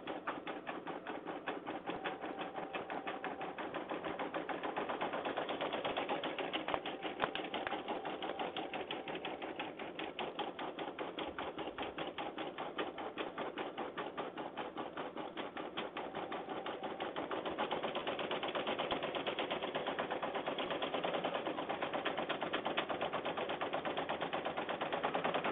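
An embroidery machine stitches out a Stitchtopia font for an in-the-hoop beginner project, a fast, steady mechanical needle chatter running continuously at even volume with no talk.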